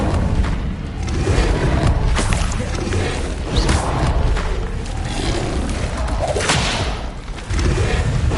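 Incendio fire spell effects in Hogwarts Legacy combat, a loud, dense stream of whooshing flame bursts, booms and thuds layered over continuous action noise, close and without breaks.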